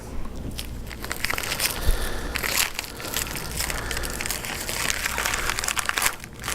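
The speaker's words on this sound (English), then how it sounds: "As you tear your bag open" Two-ply paper bag with an inner film liner torn open by hand, a steady run of crinkling, crackling rips of paper and plastic, close and fairly loud, lasting several seconds with no talk.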